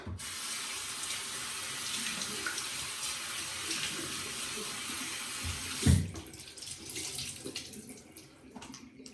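A tap runs steadily into a sink as a face is rinsed with a washcloth, a continuous splashing flow that breaks near the end into a louder splash and uneven trickling, close by with no talk.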